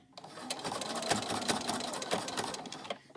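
Machine stitching runs along a coaster made of fabric scrap twine, a close, continuous rapid whirring hum that stays even throughout.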